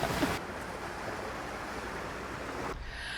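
Surf washing onto a windy beach at Santa Ponsa, Mallorca, a steady rushing wash with wind buffeting the microphone, fairly close and continuous, with no talk.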